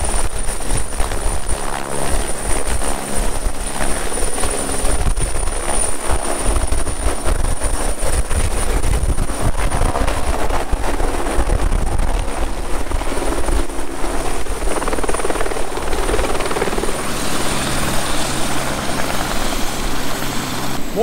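Helicopter running at the Monaco heliport, its rotor and turbine roar loud and steady throughout with a thudding low churn, heard during a Top Marques car event beside the impound lot.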